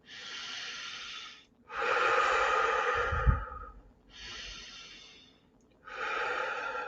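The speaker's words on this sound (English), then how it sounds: "I just start taking deep breaths in and out." Slow, deep breaths drawn in and let out by a person calming down with hands on the chest, close and steady, alternating long airy inhales and exhales with short pauses between them, no talking.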